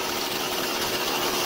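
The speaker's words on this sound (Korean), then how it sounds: "시동 걸린 상태에서 아이들링 속도를 조절합니다." A Husqvarna 440 chainsaw engine runs at a fast idle during carburetor idle-speed adjustment, giving a steady, loud, continuous drone with no pauses, heard close up and alone.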